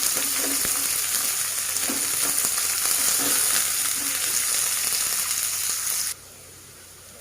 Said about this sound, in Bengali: দিয়ে দিচ্ছি কুচি করে রাখা পেঁয়াজ। ভালোভাবে ভেজে নেব।